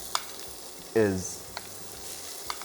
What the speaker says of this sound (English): cooking the minced meat, a little vegetable oil, sweat all our aromatics, and then we add the minced meat